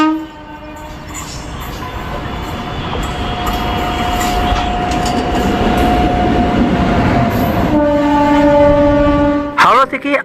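Vibhuti Express night train from Howrah running at speed, a loud continuous rumble and wheel roar with a long sustained horn tone, ending in a few sharp clanks.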